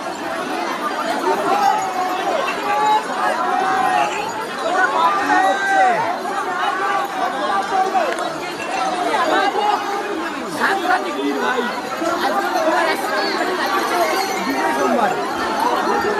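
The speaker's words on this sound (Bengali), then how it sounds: "দেখো ভিড়টা দেখো ভাই, মারাত্মক লেভেলের ভিড়, মারাত্মক।" A dense crowd of pilgrims at Tarkeshwar on a Shravan Monday, a continuous loud murmur of many voices close around, with occasional clinks and a nearby voice talking.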